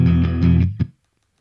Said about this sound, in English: So there's not much distortion on that guitar